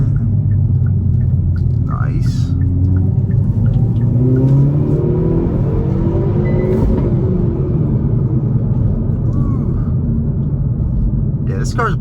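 A 2022 Hyundai Veloster N with a 6-speed manual accelerates off the line, its engine rumbling and revving loudly and steadily throughout, with a voice talking faintly underneath.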